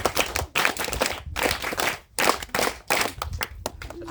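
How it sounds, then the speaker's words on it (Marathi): An audience at a summer camp event claps loudly and steadily in several dense bursts separated by short pauses, close and continuous with no talking. "त्यांच्यासाठी एकदा जोरदार टाळ्या"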